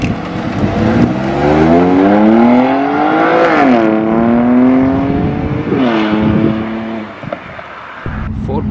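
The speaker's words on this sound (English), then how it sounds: "M2 Competizione will be off soon" A BMW M2 Competizione pulls away at a breakfast classic and sports car meet, its engine rising and falling through loud revving sweeps before easing off, with crowd murmur in the background.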